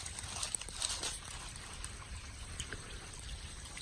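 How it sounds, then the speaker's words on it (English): Water trickles and flows down a small gorge in a forest on a hiking trail, a soft, steady, distant-sounding stream with faint splashing and no talk. "there's just water flowing down there"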